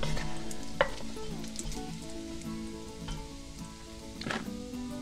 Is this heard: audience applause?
no